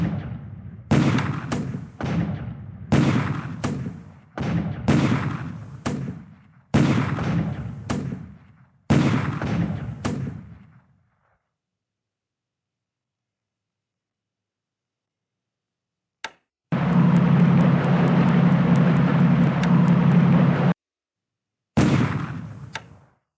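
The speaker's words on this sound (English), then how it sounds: "So many bombardments." Bombardment explosions in the WWII Pacific strategy game War in the Pacific: a series of heavy booming blasts in rough clusters, then silence, then a long sustained rumbling roar like aircraft engines and a final short burst.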